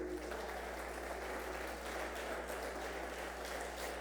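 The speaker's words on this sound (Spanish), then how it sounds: "Denle un aplauso a Dios." Church congregation applauds during a service, a soft, steady wash of distant clapping that holds evenly for about four seconds with a low hum beneath it.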